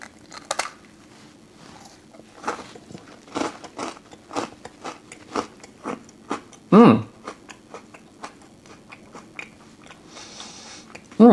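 Small homemade chocolate meringue chews bitten and chewed up close, giving sharp crisp crunches in an irregular series, with one louder bite midway and quiet pauses between.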